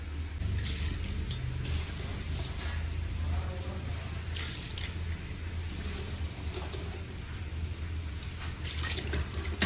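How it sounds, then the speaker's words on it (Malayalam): Soaked sella rice for chicken biryani is tipped into bubbling water with soft, wet splashes and drips over a low, steady simmer, fairly quiet throughout. "കുതിർത്ത് വെച്ച സെല്ല റൈസ് ആണ് അത് നമുക്ക് വെള്ളത്തിലേക്ക് ഇട്ട് കൊടുക്കാം"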